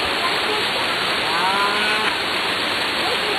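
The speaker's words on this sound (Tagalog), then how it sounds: "Welcome to Waterfalls of Sigal" A waterfall at Waterfalls of Sigal in Dahilayan pours in a steady, dense rush of white noise that never lets up, with faint voices under it.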